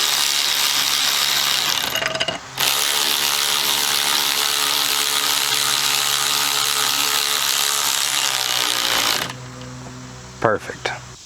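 A ratchet runs down the new bolt on a rear shock absorber of a 2004–2013 Mazda 3, a continuous close, steady clicking that goes on for several seconds, then stops, with a few brief metallic clinks at the end.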